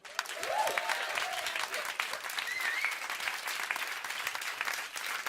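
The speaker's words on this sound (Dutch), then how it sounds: "laten we nu gauw een groot applaus geven voor Eus." A live audience applauds to welcome a speaker on stage, a dense sustained wave of clapping that swells quickly and holds steady, with a brief whoop or voice rising over the crowd.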